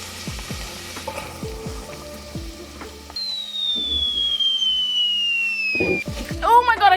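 Onions, potatoes and carrots fry in a pan with a steady sizzle, broken by a few light clanks and stirring knocks. Near the end a brief high whistle and a rising scrape cut through.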